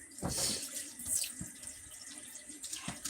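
Cold water runs from a kitchen tap during the cooking of spaghetti and elbow macaroni goulash, a steady close splashing stream into the sink for about three seconds, with no voices.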